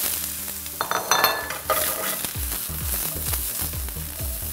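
Eggplant fries with a steady sizzle in a smoking hot oiled pan while a utensil scrapes and stirs it in quick repeated strokes, close and fairly loud.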